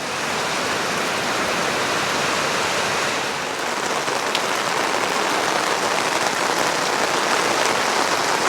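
Steady rain pours onto the hardtop roof of a 12x16 Purple Leaf patio gazebo, a dense, even hiss of drops with no gaps, close and fairly loud throughout.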